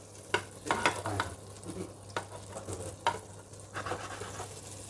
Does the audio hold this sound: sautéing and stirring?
yes